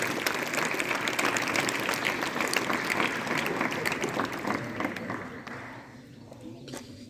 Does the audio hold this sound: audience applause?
yes